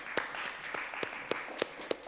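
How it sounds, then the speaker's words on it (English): Sparse applause at a summit session, a faint background patter punctuated by a few sharp, evenly spaced individual claps close by. "I'd like to give everybody a round of applause"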